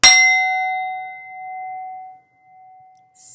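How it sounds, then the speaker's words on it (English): A metal singing bowl struck once, a bright clang settling into a long, pure ringing tone that slowly fades, held loosely on a flat hand, with a brief hiss at the end. "So I learned to keep my hand flat when I do the singing bowl."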